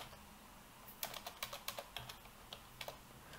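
Keystrokes on a computer keyboard while writing Python test code: an irregular run of sharp clicks starting after a quiet second, close and moderately loud, with no voice.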